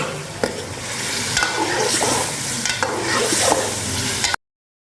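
Chicken for white korma sizzles loudly in a pan while being stirred, with steady frying hiss and repeated scraping strokes close up and no voices.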